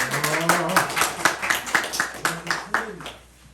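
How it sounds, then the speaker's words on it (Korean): Hand clapping at a Sunday church service comes in a rhythmic run of sharp claps over voices, fading toward the end. "박수."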